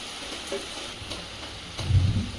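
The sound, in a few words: steady rain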